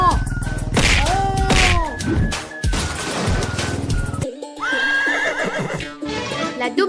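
A horse neighs repeatedly in loud, wavering whinnies amid a busy cartoon-style soundtrack with hoof clatter and sharp bursts, the calls rising and falling over several seconds.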